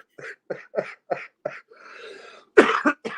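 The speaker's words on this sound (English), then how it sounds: "The coughing is what's getting me the most." A run of short, dry coughs, about six in quick succession, then a raspy breath and a couple more harsh coughs, close and fairly loud.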